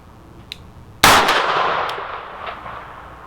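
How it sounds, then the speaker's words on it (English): A Smith & Wesson .44 Magnum Hunter Performance Center revolver fires a single loud, sharp shot at steel targets outdoors, with a long ringing decay after a faint earlier tick. "I can't tell from the muzzle blast and whatever whether or not I even hit it."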